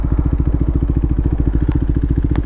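Motorcycles including a classic Honda CB750 Four F1, a 2024 KTM Duke 390 and a Suzuki Bandit on a steady ride, their engines thrumming in an even, close, loud pulse with a couple of faint clicks.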